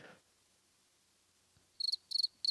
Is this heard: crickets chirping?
yes